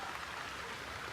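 Steady rain hisses evenly through a forest, a soft, continuous wash of falling drops with no voices.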